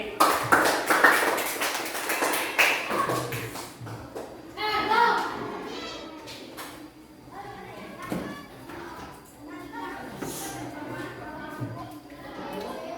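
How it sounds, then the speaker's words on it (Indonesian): Children clap together in an elementary school classroom, a dense burst of hand claps at the start that thins out while a teacher and children talk over it. "Tepuk tangan lagi."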